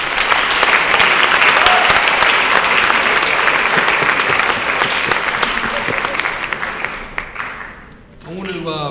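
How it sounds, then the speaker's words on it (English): A large audience at a Constitution Day event applauds loudly in a dense, continuous wash of clapping that tapers toward the end, followed by a voice beginning to speak. "Let's give them a round of applause."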